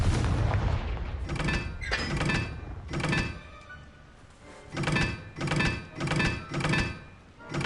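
Confringo fire spell blasts in the Hogwarts Legacy video game, a series of heavy booming thumps, about six or seven impacts spaced irregularly, loud and close with no talk.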